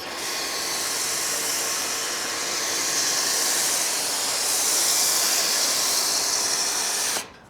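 MJJC foam cannon spraying Feynlab Pure Wash shampoo foam, a loud steady high-pressure hiss that runs unbroken for about seven seconds, then cuts off abruptly.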